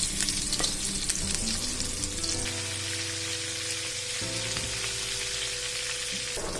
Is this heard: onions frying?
yes